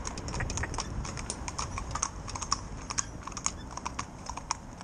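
Hooves of a young competition driving pair clip-clop steadily on hard ground during training, a quick, continuous patter of overlapping footfalls at moderate distance.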